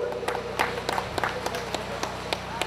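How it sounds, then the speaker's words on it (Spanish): Scattered claps ring out at a dance in Zitlaltepec, Guerrero, over a steady low hum, uneven and fairly close, with a voice faintly present in the background. "Un fuerte aplauso para ellos"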